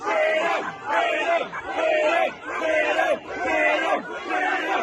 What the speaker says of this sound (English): A number of these protesters chanting freedom.